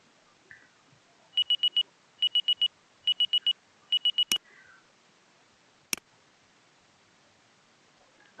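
A Google search timer alarm set for 15 seconds goes off in four quick groups of four electronic beeps, clean and fairly quiet, followed by a couple of sharp clicks.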